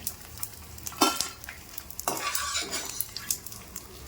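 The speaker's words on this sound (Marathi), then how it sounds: "तर असंच मी बाकीचा पण डिंक तळून घेते." Edible gum (dink) for fenugreek laddoos frying in hot oil, a close crackling sizzle with spoon stirring and scraping against the pan.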